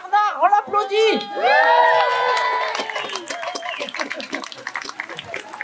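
At a street demonstration, a crowd claps for a first-time protester. Raised voices and cheering come first, then a steady patter of many hands clapping close by.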